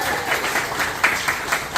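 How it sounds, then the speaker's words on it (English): Brief burst of applause from wedding reception guests for the maid of honor, dense clapping with a few louder individual claps. "And can I also get a round of applause for our beautiful maid of honor, Amy?"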